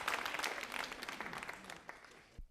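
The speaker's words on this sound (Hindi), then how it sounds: "तालियां तो जोरों से बजाओ साहब" Audience applause at a quiz show, a modest group clapping in quick irregular bursts that thin out and stop abruptly near the end.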